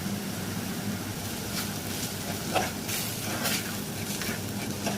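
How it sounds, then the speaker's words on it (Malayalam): Spice powders roast in oil in a pan for a hotel-style fish curry, making a steady close sizzle with intermittent scraping and stirring bursts, and no voices. "പൊടികളൊക്കെ ഒന്ന് നന്നായിട്ട് നല്ല പച്ചമണം മാറുന്നവരെ ഒന്ന് വറുത്തെടുക്കാം"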